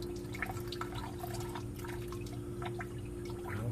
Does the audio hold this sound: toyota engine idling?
no